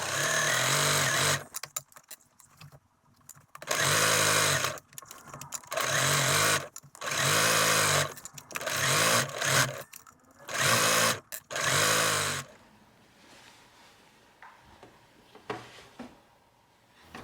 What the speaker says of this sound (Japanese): 身ごろに表襟を仮縫いしていこう。